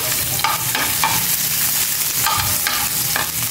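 Garlic frying in a pan while tilapia is being cooked: a steady close sizzle with repeated scraping stirs across the whole stretch, no talking.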